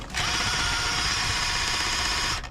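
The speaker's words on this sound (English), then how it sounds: "Right then, drilling." A power drill running steadily on its non-hammer setting, driven slowly, gives a continuous high whirring whine for about two seconds, close and loud, starting and stopping cleanly with no voices.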